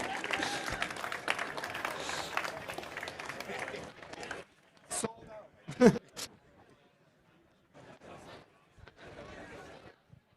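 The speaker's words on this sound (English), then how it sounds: "Can I please get a big round of applause for Niklas Ekstedt?" Studio audience applauds and chatters for chef Niklas Ekstedt at a cooking event, a dense burst of clapping that fades after about four seconds, followed by scattered claps, sharp knocks and murmuring voices.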